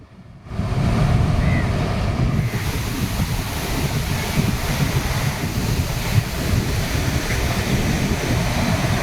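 Rough sea waves surge ashore at Pozhikkarai near Nagercoil on a stormy coast, a continuous heavy roar of breaking surf mixed with buffeting wind noise on the microphone, loud and steady throughout.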